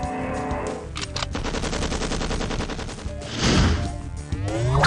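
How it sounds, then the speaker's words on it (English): Rapid machine gun fire from the You Don't Know Jack Headrush quiz game, a dense steady rattle of shots set into a musical piece with orchestral tones, building to a louder burst near the end. "And now, Symphony for a Machine Gun."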